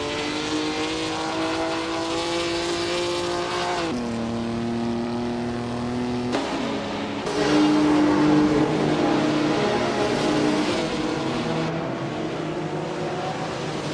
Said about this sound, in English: Not to be outdone, Bot Unclear Gaming has taken advantage of the chaos, overtaking 4 cars as well to climb to 23rd place